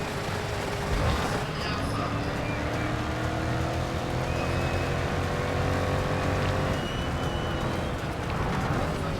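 Three-wheeled race car in the racing game GRID Legends, engine droning steadily and loudly throughout, pitch rising and falling as it accelerates, with a faint voice beneath.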